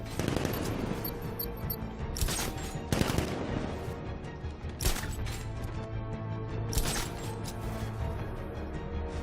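Gunfire in the video game Batman: Arkham Knight, sharp shot bursts cracking out at around 2, 3, 5 and 7 seconds over a dense, noisy game soundscape with faint voices underneath.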